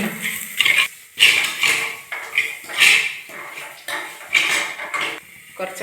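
Ground rasam spices are stirred in a clay pot, with a spoon scraping and clinking against the pot in about seven rhythmic, close strokes separated by short pauses.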